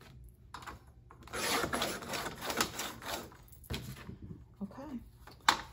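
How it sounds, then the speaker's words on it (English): Scissors or a trimmer cut through paper to trim off the white edges for a homemade spiral notebook, a close rasping, rubbing cut in several strokes with brief pauses. "So it wants me to go ahead and cut all the white off"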